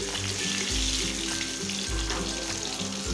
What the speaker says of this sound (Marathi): आता आपण कारलं हलवून घेणार आहोत